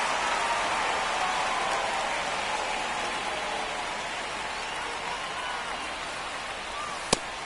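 Steady, even hiss of rain falling on a baseball field in MLB The Show video game, constant and moderately loud throughout, with one brief sharp click near the end.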